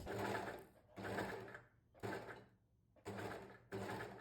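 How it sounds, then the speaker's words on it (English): An overlocker runs in five short bursts of rapid stitching, about a second each with brief pauses between, sewing the collar of a stretch mesh dress, close and fairly loud with no talk. "And I'm just going to overlock this."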